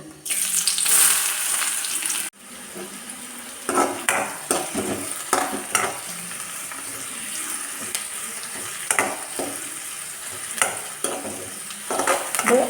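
Sliced shallots sizzle and fry in hot coconut oil with popped mustard seeds, a steady loud crackle with stirring scrapes breaking through, close to the pan and with no talk.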